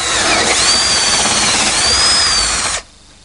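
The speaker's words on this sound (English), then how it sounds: "First thing I need to do is drill a hole in the back of the cabinet." A power drill whines steadily through the wooden back of a cabinet for nearly three seconds, its pitch rising slightly, then stops abruptly into near silence.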